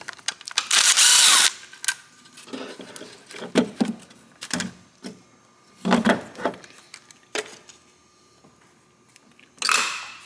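A power tool, likely a drill or driver, removes the four 10mm bolts holding the ECU on a SAAB engine during alternator replacement; several short bursts of varied loudness, close and alone, with one long whir at the start and another at the end.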